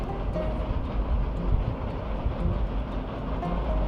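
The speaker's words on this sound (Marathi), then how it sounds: "बघा इथून आपल्या भारतीय रेल्वेची रेल्वे धावते" A steady, heavy rumble of an Indian Railways train rolling past nearby, dense and continuous, with a rhythmic rattle of wheels on track.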